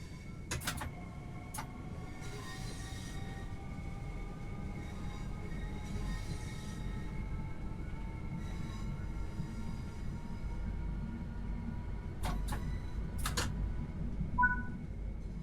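A Class 465 Networker electric train runs in Train Sim World 3 on the Southeastern High Speed route, a steady low rolling rumble with rising traction-motor whine and a few sharp clicks.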